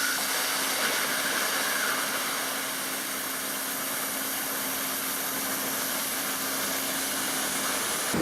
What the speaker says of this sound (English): So as I'm following this cut along, at the end you'll see I want to stop and I want to roll a little bit to make sure that arc severs that piece